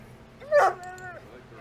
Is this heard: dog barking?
yes